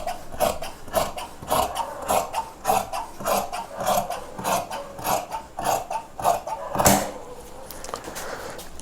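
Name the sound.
scissors cutting chudidhar pant fabric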